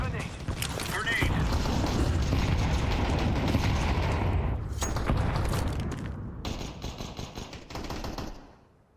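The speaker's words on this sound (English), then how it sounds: "Throwing grenade." Grenade blast in Counter-Strike 2: a sustained loud roar of gunfire and explosive rumble, fading over the last second.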